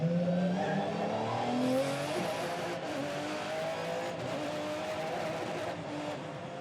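Audi prototypes and other sports cars race at Trois-Rivières in the 2002 ALMS event as green-flag running resumes after a full course caution, engines revving and rising in pitch, with faint tire squeal amid a steady loud roar.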